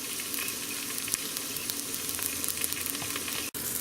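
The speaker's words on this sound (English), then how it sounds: "seared it is on that side and all browned up. And I'm doing it to the other side." A herbed pork loin roast searing in a hot pan gives a dense, continuous crackling sizzle, close up and even in level, with a brief clunk near the end and no talking.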